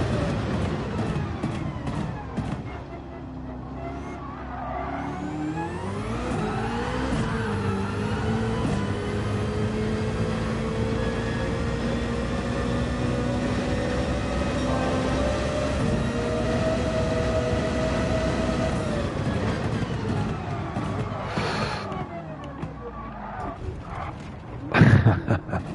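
A racing car in Gran Turismo 7 runs at full throttle on a long circuit. The engine note stays loud and sustained, rising and shifting through gears. A short burst of noise comes near the end.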